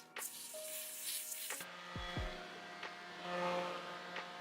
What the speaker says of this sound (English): we're going to use a little bit of lace melt spray. And we're just going to spray that directly on the lace